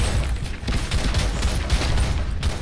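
Rapid gunfire in the video game Crysis 3, a dense, continuous stream of shots with low booms, steady and loud for the whole short burst.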